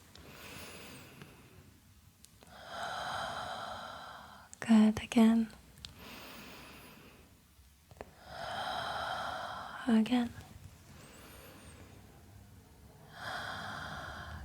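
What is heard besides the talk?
deep breathing in and out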